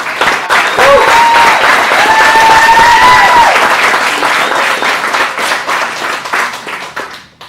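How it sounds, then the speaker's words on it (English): A graduation crowd claps for the graduates, dense loud applause sustained for several seconds before tapering off, with a few cheers mixed in. "Let's give the graduates a round of applause here real quick."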